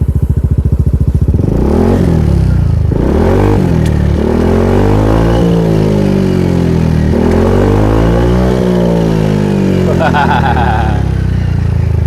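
A Suzuki Burgman 125 CKD scooter with a deep-toned aftermarket exhaust revs repeatedly, its pitch swelling and falling in several loud, bassy surges up close, with a steady low drone between the throttle blips.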